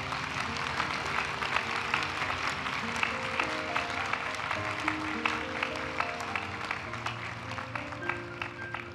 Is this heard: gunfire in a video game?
no